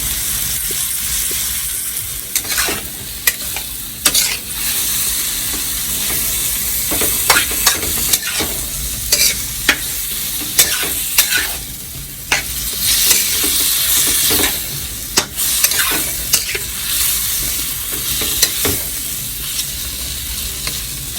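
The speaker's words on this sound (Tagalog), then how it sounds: "hinalo ko na rin yung bawang, ano? Kasi nagsasabaw na yung ating kamatis" Garlic, onion and tomato sauté in a pan for sinigang na labanos, giving a steady sizzle broken by repeated scraping stir strokes, close and fairly loud with no talk.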